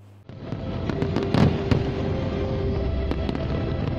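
Fireworks bursting at the 2017 Da Nang International Fireworks Festival, a steady crackling roar with sharp reports and a thick cluster of bangs, heard from a distance without any talk.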